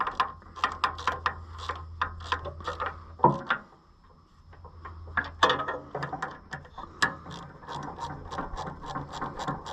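A ratchet socket wrench turns a bolt during parts replacement on an Oliver 1365 tractor, producing quick, close runs of rattling pawl clicks that stop briefly midway, then resume in steady bursts.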